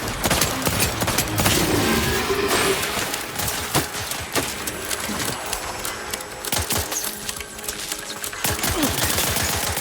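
Sustained gunfire from a firefight in the video game The Outer Worlds 2, with dense rapid bursts and scattered sharp shots crackling loudly and continuously throughout.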